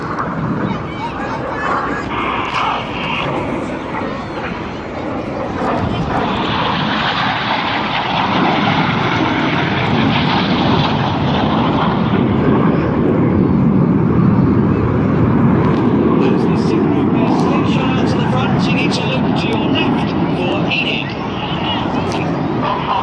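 Aircraft engines roaring during a formation air show display as the planes roll out toward the crowd, a loud sustained drone that swells and stays strong, with an announcer talking over it.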